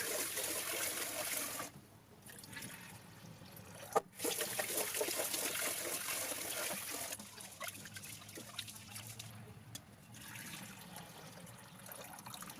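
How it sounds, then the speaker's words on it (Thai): Sticky rice is rinsed by hand in water, giving a trickling, swishing wash with brief pauses and a sharp clunk midway. Faint background voices sit under the steady splashing. "เราจะนำข้าวนะคะ มาล้างนะคะทำความสะอาดนะคะ 2-3 น้ำนะคะ"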